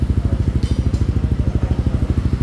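A Yamaha NMAX scooter fitted with an SKR Racing exhaust idles close by, a loud, steady low burbling pulse with an even rhythm and no talk.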